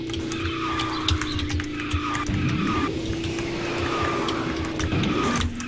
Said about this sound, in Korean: 거의 드리프트 하는 게 지금.